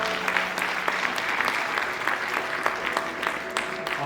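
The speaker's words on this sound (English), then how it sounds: "Let's give ourselves a massive round of applause." Applause from an audience at a Gambian independence anniversary celebration in London, steady clapping throughout with a few louder claps standing out.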